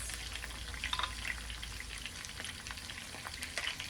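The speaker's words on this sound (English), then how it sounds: "let us put our biscuits in the pan right here" Biscuits go into a hot pan beside pork chops being cooked. They set off a soft, continuous sizzle and crackle that stays fairly faint and even, with small pops scattered through it.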